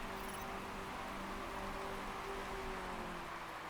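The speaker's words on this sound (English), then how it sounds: "now it is going to stop raining at the end" Steady in-game rain hiss from the Motorsport Manager racing game, a continuous even wash of pattering rainfall with a faint tonal hum beneath, no talking over it.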